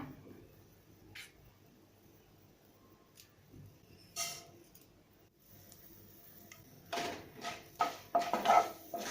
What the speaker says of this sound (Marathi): आता आपण ह्या मेथे आहेत ना ते थोडेसे आपण तेलामध्ये परतून घेऊया